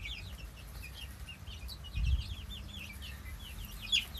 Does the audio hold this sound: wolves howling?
no